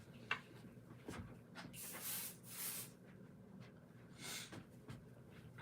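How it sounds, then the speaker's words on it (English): Short aerosol bursts of pixie spray hiss onto the back of a rabbit figure, several quiet puffs separated by pauses, close to the microphone with faint handling rubs between them. "spray the back of the rabbit"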